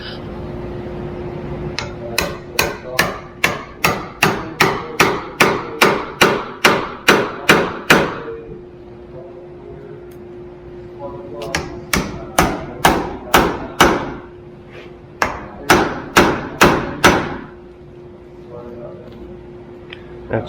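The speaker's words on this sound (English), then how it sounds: "Alright, I need a hammer." A hammer strikes wood in two long runs of rapid, evenly spaced blows, close and loud, with a short pause between the runs and a steady background hum.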